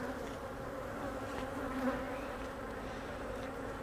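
Honey bees buzz steadily and close throughout an autumn inspection of a honey-bound hive, a dense continuous drone with no talk.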